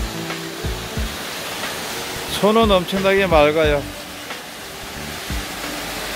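Yukdam Falls in Seoraksan, a 40-50 m cascade viewed from a suspension bridge, gives a steady, broad rushing roar in the background while someone talks over it.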